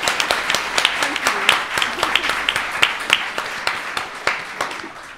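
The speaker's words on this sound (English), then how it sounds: "I'm going to applaud her again." An audience at a storytelling event applauds a speaker, lively overlapping hand claps with sharp individual slaps, close and fairly loud, a few voices calling out beneath.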